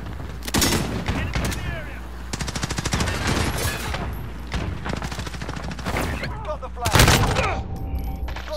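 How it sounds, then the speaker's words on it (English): Rapid automatic gunfire in Call of Duty Modern Warfare multiplayer, dense bursts of loud shots with booming impacts and a sharp burst near the end, under occasional speech. "See, I won that gunfight."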